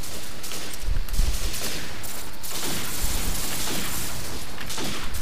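Call of Duty 4 Domination match gunfire on the Vacant map, loud continuous rapid automatic shooting with a few heavier thumps, close and dominant throughout with almost no talk.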